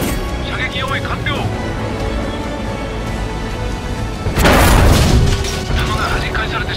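A heavy cannon shot booms out in a naval war game set around a Pacific island in a typhoon, one loud blast with a rumbling tail over constant storm noise and game sounds.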